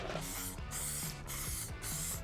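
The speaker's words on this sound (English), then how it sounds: "use some Halford's clear lacquer and do 1 or 2 coats on top" Halford's clear lacquer hisses from an aerosol can onto a car part in four steady, close bursts of about half a second each, separated by short pauses.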